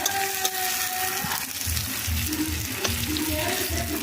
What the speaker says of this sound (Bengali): একটু হালকা হালকা ভেজে নিচ্ছি